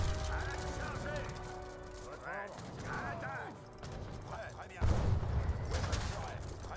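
Mortars and gunfire in an Age of Empires III battle mod pound buildings, with scattered cracking shots, mechanical clatter and a heavier blast near the end, under steady talk.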